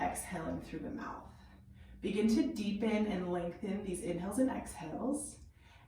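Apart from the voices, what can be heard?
No distinct noise like a dog, phone or traffic.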